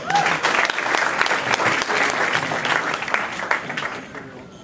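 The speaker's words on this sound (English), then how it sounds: "Let's give him a round of applause." An audience applauds at a spoken word event in New York, a dense burst of clapping that stays strong for a few seconds and then thins and tapers toward the end.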